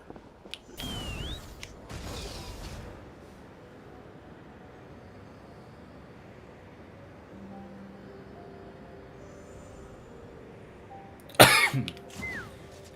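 One person coughs hard in a couple of rough bursts early on, then goes quiet over a low background hum, and near the end a sharper, louder cough or throat-clearing breaks out.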